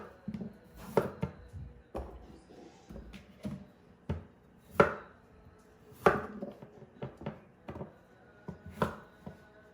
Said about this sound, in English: I gotta kind of cut it in thick slices